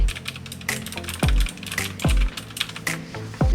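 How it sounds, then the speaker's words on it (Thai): Crisp, loud clicky keystrokes on a GadonX GK-X42 104-key mechanical keyboard with blue switches, a handful of sharp clacks at an uneven typing pace, close up with no talking. "เนื่องด้วยมันเป็นบลูสวิตนะคะ มีเอกลักษณ์เฉพาะตัว เสียงเขาก็จะดังประมาณนี้เลย"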